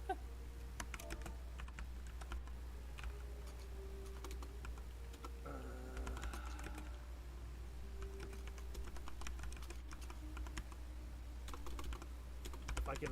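Steady computer keyboard typing runs throughout, with bursts of clacking keys over a constant low hum and a few faint tones in the background.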